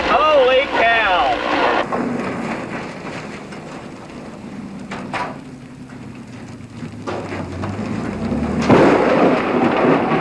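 Loud thunder cracks and rumbles right after lightning hits a car during a tornado storm, with rain, wind buffeting and excited voices talking over it.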